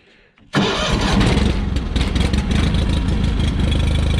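A John Deere 318 lawn tractor engine cranks and catches abruptly, then settles into a steady, loud, close idle with a rhythmic chugging pulse.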